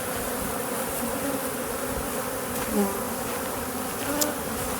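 Honey bees buzzing steadily on a frame of freshly drawn comb during a hive split with grafted queen cells, a dense continuous hum close by with occasional louder passes of single bees near the ear.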